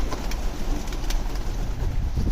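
Street pigeons coo steadily close by outdoors, low throaty murmurs under light wind and city background noise.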